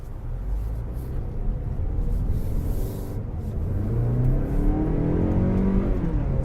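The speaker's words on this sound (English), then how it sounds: "as soon as I'm clear, we're going to make a right and power it up this hill." A 2019 Mazda3 Premium powering up a hill after a right turn, its engine droning steadily and climbing in pitch as it accelerates, heard from inside the cabin with no talking.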